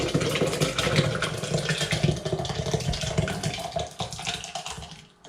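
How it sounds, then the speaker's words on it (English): Blended leek and potato soup is poured steadily from a pan, a continuous wet splashing stream that fades out near the end, with no talk. "Pour my soup into here."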